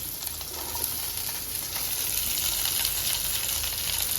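Capsicum and onion sizzling in a hot pan, a continuous close crackling hiss that stays steady throughout with occasional light stirring, no voices over it.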